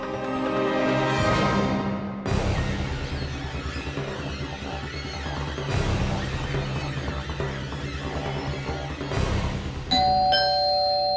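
A doorbell chimes three times at spaced intervals, each ring loud and close, with a brighter ding-dong tone near the end.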